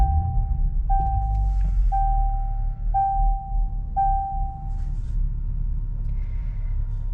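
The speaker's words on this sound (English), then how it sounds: "let's go ahead and turn the car on" A 2021 Range Rover Westminster starts up inside the cabin, with a string of clear electronic chimes ringing over a steady low engine hum that settles into a smooth idle.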